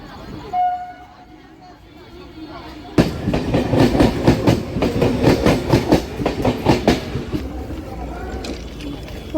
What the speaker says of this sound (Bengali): রানাঘাট থেকে গেদে লোকালটা ছাড়লো